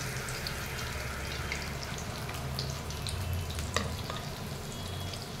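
Battered prawns frying in hot oil, a steady soft sizzle and crackle with a few light clinks of a utensil, fairly quiet and close, no talking.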